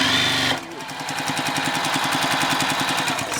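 A sewing machine back stitching a fabric mask runs in a steady rapid rhythmic chatter, close and loud, starting just after a brief burst of other noise.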